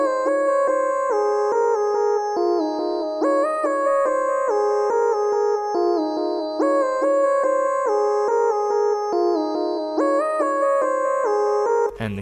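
A bright synth lead from the Purity plugin plays a repeating stepped melody, clean and sustained with clear note changes, loud and alone for about twelve seconds before a short cut at the end.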